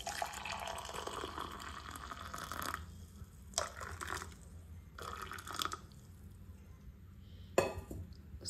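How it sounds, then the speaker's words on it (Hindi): Boiled water is poured into a container indoors, a soft steady splashing stream with a few clinks and pauses between pours, quiet and close with no talking. "फिर मेरा पानी भी बॉयल हो चुका है तो अब इसको ले चलेंगे। मैं इस पानी को कुछ नहीं करना है, इसमें डाल देना है।"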